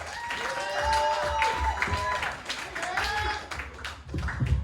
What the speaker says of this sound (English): Clap for BJ Smith